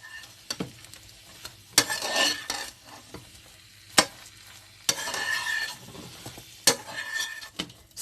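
Plantain puff puff pieces are tossed and stirred in a bowl, irregular scraping swishes and sharp clacks of a utensil against the side, close and unaccompanied by talk.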